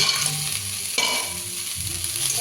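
Loud, steady sizzling and frying as fried lentil dumplings (bori) go into chickpea greens cooking in a pan, with a brief clatter partway through.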